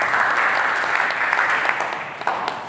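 A congregation claps during an Ascension Day church service, a loud, full wash of applause that holds steady and then tapers slightly toward the end.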